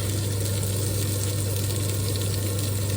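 Red pepper, spring onions, garlic and chilli, with a few stray bits of beef, sizzle in a hot pan: a constant, even hiss that holds at one level throughout, over a low steady hum.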